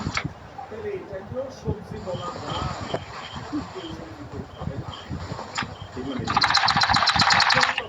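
A sewing machine stitching a salwar whirs into a fast, even rattle near the end, after several seconds of someone talking over light handling noises.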